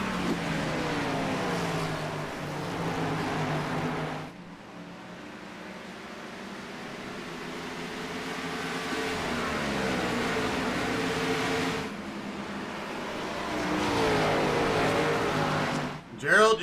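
Gen 4 stock race cars with 900-horsepower engines roar around the asphalt and concrete oval at Iowa, a sustained engine drone rising and falling as cars pass, under a commentator's voice.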